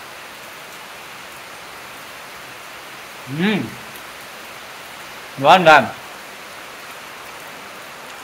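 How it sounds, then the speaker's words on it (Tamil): Heavy rain falls steadily on a hill near the Perumal temple at Arthanaripalayam, Pollachi, a continuous dense hiss, broken twice by a man's short spoken remarks. "நல்லா மழை பெய்யுதுங்க."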